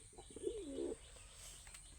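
Pigeons coo in one soft, rolling call near the middle, with a faint background hiss and a few quieter bird sounds around it.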